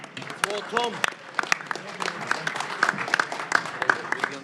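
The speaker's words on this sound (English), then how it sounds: "The president of TGB Promotions, a round of applause for Mr. Tom Brown" Crowd applause at a boxing fight-week press conference, scattered clapping in a large room that swells unevenly, with someone talking over the opening.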